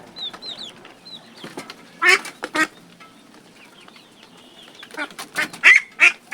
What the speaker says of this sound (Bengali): এটা একটা ফিমেল কিন্তু হাঁস হবে, ওর অলরেডি সাউন্ড চলে আসছে পাতি হাঁসের ফিমেলের মতো